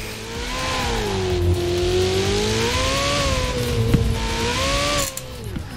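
Ferrari Pista in Forza Horizon 4, its engine droning steadily and loud, the pitch rising and falling as the car accelerates and the revs shift, with a brief mechanical clack partway through and the tone dropping near the end.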